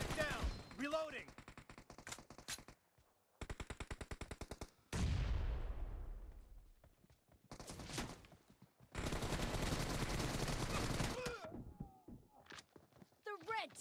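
Bursts of automatic gunfire in the mobile battle-royale game PUBG Mobile, sharp rapid shots alternating with a louder heavy blast and short gaps, fairly close and dominant.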